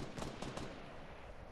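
Rapid gunfire in a Fortnite match as players shoot down a sky base, a dense burst of shots with a few sharp peaks early on, then a steady rattling wash, loud and close.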